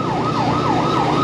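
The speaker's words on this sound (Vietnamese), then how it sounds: "xe cứu thương kìa, hai xe lên," Ambulance sirens pass through a rainy Saigon street, a loud wailing tone sweeping up and down in steady cycles over a constant wash of rain and traffic.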